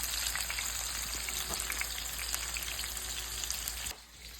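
A salmon fillet for Jamaican coconut curry salmon fries in a pan as one side browns, a dense, steady close sizzle with fine popping that drops to a quieter hiss at the end.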